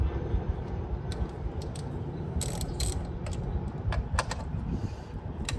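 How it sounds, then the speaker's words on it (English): A 10mm socket ratchet clicks in quick bursts while loosening bolts on a 2011 Honda Element engine, close and crisp over a low background hum, with short pauses between strokes. "Loosen up all these bolts."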